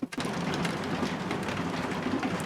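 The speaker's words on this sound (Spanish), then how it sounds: "Esto es una locura lo que está granizando, ¿eh?" A heavy summer hailstorm pelts down as a dense, loud, continuous clatter of hailstones striking surfaces nearby, starting with a couple of sharp knocks before the steady roar.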